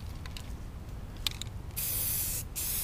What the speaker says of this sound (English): Rattle can spray paint.